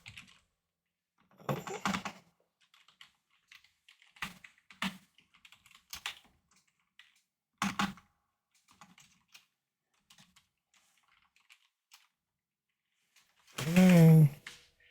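Sparse bursts of clicking on a computer keyboard, short irregular runs of keystrokes separated by quiet gaps, close and clear, with a brief spoken remark near the end.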